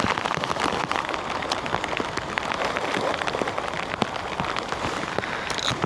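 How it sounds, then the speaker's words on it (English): Rain begins falling on the water beside a cod angler on the ledges, a dense steady patter of drops with sharper individual splashes, close and continuous without talk. "That's why we're talking about the rain starting"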